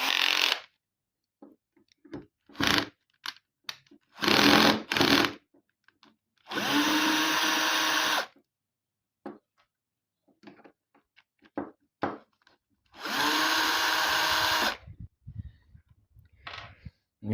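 A power screwdriver undoes 4mm screws on a pinball flipper mechanism in short, loud bursts of motor whine separated by quiet gaps and small clicks of handling, close up.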